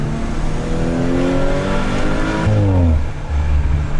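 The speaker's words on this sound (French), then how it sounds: "Je suis quand même honnêtement assez déçu par le bruit de l'Audi RS5 2018." A 2018 Audi RS5 with a V6 engine and sport exhaust revs hard from inside the car, pitch climbing through the gears with shift drops, loud and close, without talk.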